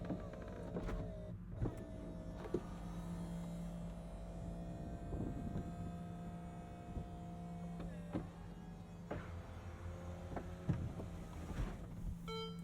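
Ferrari SF90 Spider's retractable hardtop folding away, a steady electric motor whine with mechanical clunks and shifting tones running continuously over a low hybrid hum while the car sits under electric power.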